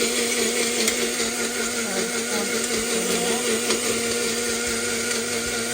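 A mixer grinder whirs steadily as it grinds doddapatre chutney ingredients. The motor's loud, unbroken drone runs the whole time while a voice speaks briefly over it.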